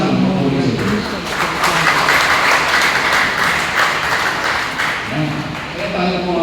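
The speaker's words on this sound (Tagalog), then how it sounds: "Kaya tayo pumapalakpak dahil tayo pupuri sa Panginoon." Church congregation applauding together during a Sunday homily, a dense, sustained wash of clapping throughout with a voice speaking faintly underneath at the start and end.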